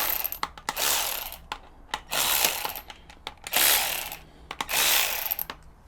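A ratchet loosens bolts on a Honda Hornet CB600 motorbike engine during valve adjustment, with four close bursts of rapid clicking separated by single sharp ticks and short pauses.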